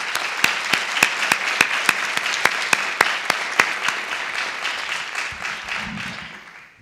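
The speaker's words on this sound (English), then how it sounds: "So please, thank you and applause." Applause at a county candidate forum comes as sharp, evenly spaced claps in a steady rhythm over a soft crowd wash, fading toward the end.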